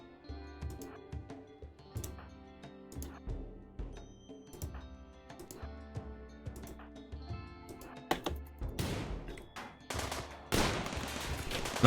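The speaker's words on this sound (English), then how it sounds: "Oh my god, they're shooting their own people." Gunfire in the RimWorld video game crackles in rapid bursts of sharp shots and volleys, irregular at first, then thickening into a dense, loud barrage near the end.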